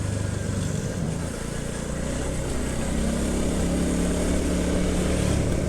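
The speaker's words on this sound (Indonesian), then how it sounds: "ini anginnya besar sekali ini" Strong wind buffeting a microphone on a recently repaired road at Cikoneng, Bojongsoang, a steady, loud rumbling roar that stays continuous throughout with no talk.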